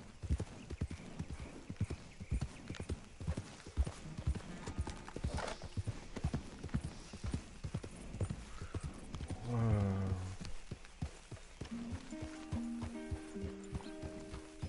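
Horse hooves clip-clop steadily in the video game Red Dead Redemption 2, a close rhythmic trot, with a brief whinny and game music coming in toward the end.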